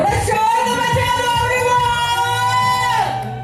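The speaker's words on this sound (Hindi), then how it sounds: "थोड़ा शोर तो मचा दो" Lively audience cheering and shouting throughout, loud and sustained, with voices and whoops blending into a dense crowd roar that fades slightly at the end.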